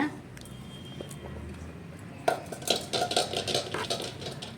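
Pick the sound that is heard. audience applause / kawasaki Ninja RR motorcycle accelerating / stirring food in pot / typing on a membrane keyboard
stirring food in pot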